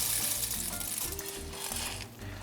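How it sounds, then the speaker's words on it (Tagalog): Dry elbow macaroni poured into a pot of chicken sopas, a close, rapid rattling patter of hard pasta pieces tumbling in, steady for a couple of seconds with no talk. "Pwede nyo ilagay kagad yung elbow macaroni."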